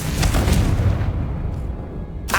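Confringo spell blast in the video game Hogwarts Legacy, a single loud booming explosion that rumbles and fades out over a couple of seconds, followed by a brief burst at the end.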